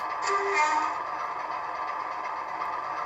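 A model train horn sounds a sustained, reedy tone at moderate loudness over a steady background hum, with no talking.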